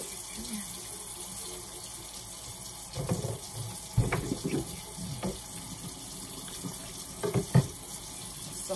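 A tap runs steadily for a child's bath rinse, with water splashing and sloshing in the tub, close by and fairly quiet.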